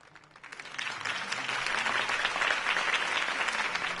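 A crowd breaks into applause after Harvey Dent's campaign speech in Batman, the clapping swelling within half a second into a dense, sustained ovation that holds steady at a moderate distance.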